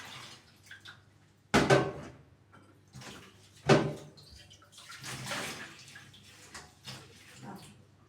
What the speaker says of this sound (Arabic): احنا لازم نغسل الحاجه مره واثنين وثلاثه يا بنات.